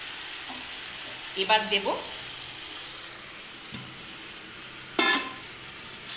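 Spiced paste hitting a hot pan while cooking rohu fish with ridge gourd, potato and onion, giving a steady hiss of frying with brief louder sizzling bursts and stirring clatter, near, under a few spoken words.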